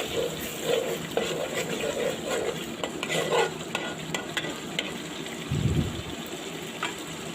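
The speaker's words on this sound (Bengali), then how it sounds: "মশলাটাকে আমি ভালো করে কষিয়ে নিচ্ছি। আবার একটু নাড়াচাড়া করে দিলাম।" A spice masala is stirred and fried in a pan for a Bengali mola fish bhuna, with a steady sizzle and repeated scraping strokes of the spoon, plus a brief heavier clatter near the end.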